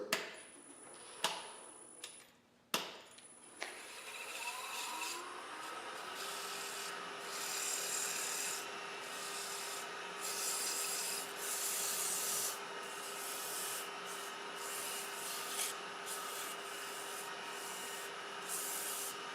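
Sandpaper rubbing against a spinning wood turning on a lathe, working through grits, a steady soft hiss with a faint motor hum, preceded by a few sharp knocks and taps, fairly quiet and with no talk.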